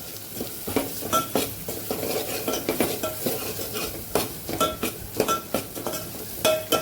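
Spices sautéing on low heat in a pan for Kathiyawadi dal tadka, a steady sizzle under repeated scraping and clinking as a spoon stirs against the metal pan. The sound is close and continuous with no talking.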